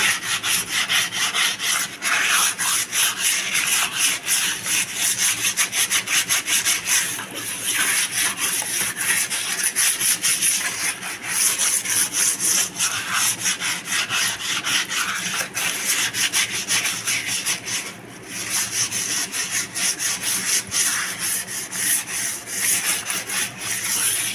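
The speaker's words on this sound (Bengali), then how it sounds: "আর একটুখানি জলে ভিজিয়ে আর একবার একটু ঘষে নিই।" Close, brisk scrubbing of a wash basin or kitchen sink, a rapid rhythmic rasping back-and-forth that runs continuously with only brief pauses and no talking.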